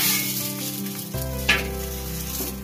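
Taro stolon paturi sizzling and frying in a pan, a steady close sizzle with a soft clatter midway as the pieces shift; no talking.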